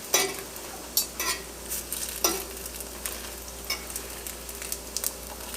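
French toast sausage rolls fry in a pan with a steady, close sizzle. A utensil adds intermittent sharp scrapes and taps as it stirs and turns them.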